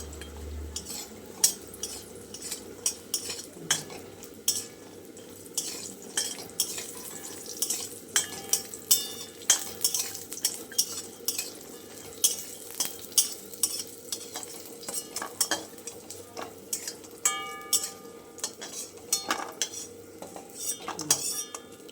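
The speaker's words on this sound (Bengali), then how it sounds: "এখন একটু বড়িটা ভেজে নেই, তারপরে বড়িটা একটু লাল করে ভাজবো।" Lentil dumplings (bori) fry in a pan for a vegetable shukto, with a soft steady sizzle beneath frequent sharp clinks and scrapes of a utensil stirring against the metal pan.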